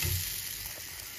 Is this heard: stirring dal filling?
yes